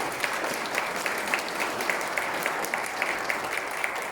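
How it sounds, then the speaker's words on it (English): An audience at a taekwondo belt presentation ceremony claps steadily and evenly for about four seconds, with no voices over the applause. "So give them a hand, everyone."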